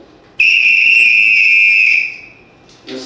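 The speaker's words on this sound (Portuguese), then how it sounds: "é essencial o apito" A loud, piercing whistle blast, used to lead a Bumba-meu-boi group in Maranhão, holds steady for over a second and a half, then fades out, with a brief rustle at the end.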